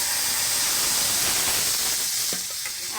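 Loud, steady hiss and sizzle of milk hitting hot semolina in a pan, a continuous broadband steaming roar that eases slightly toward the end, with no voices.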